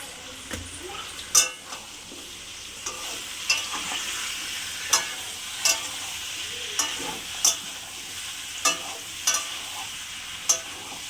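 Chicken frying with whole spices such as bay leaf in a pan, a steady sizzle broken by repeated sharp clinks and scrapes of a utensil stirring against the metal, no voices.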